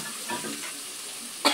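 Dried hilsa fish with chili and onion sautéing in a pan, a brief steady close sizzle with light stirring and a sharper scrape at the end, no talking.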